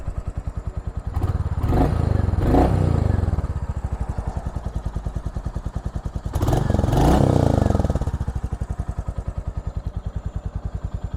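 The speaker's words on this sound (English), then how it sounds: "So let me give you a couple revs now." A 2023 Royal Enfield Meteor 350 motorcycle idles with a fast, throbbing putter, then revs twice in two rising bursts before settling back to idle.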